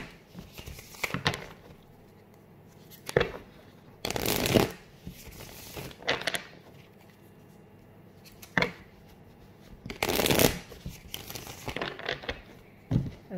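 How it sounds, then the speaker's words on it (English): Tarot cards shuffled by hand in a few bursts of riffling and crinkling, close and fairly loud, separated by short quiet pauses with no talking. "I'm gonna shuffle the cards three times and draw a card"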